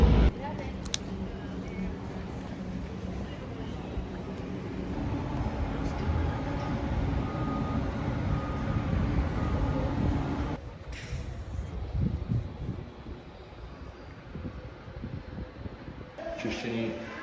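Milan metro train riding, a steady broadband rumble and hum of the carriage in motion that builds through the middle, then drops as the ride settles, with speech 0.79 suggesting voices mixed in.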